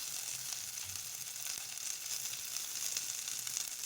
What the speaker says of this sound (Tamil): அது கொஞ்சம் நல்லா வதங்கி வரட்டுங்க,